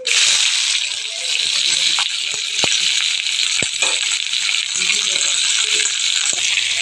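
Garlic, green chili and onion hit hot oil with popped mustard seeds for a Tamil eggplant kadayal, setting off a loud, steady sizzle and crackle, with a few spoon clinks and a voice speaking underneath.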